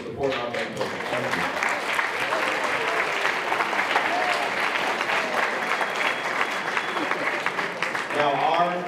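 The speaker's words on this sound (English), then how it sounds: "I just want to give a round of applause for you, the parents, for supporting our band." At a high school symphonic band concert, the audience claps for the parents in a sustained, dense round of applause lasting several seconds, with some voices mixed in.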